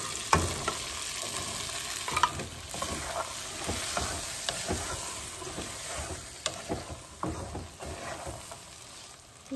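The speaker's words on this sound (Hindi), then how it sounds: "अब इसमें मैं मटर सारे ऐड कर दूंगी, फिर उसे ऐसे भूनते रहूँगी।" Peas sizzle and crackle steadily as they are stir-fried in a hot pan, with scraping and stirring clatter throughout, close up and without speech.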